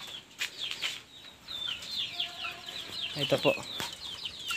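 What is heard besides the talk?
chicks clucking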